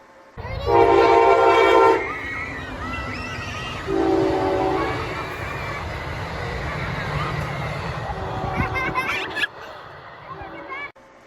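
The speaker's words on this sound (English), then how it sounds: "I started seeing the Siemens Charger locomotives, which I've actually got a video of one going by here that I'll show" An Amtrak Siemens Charger locomotive hauls a passenger train past at close range with a steady loud rumble and rolling wheel noise. Sustained horn blasts sound at the start and again midway before the sound drops away.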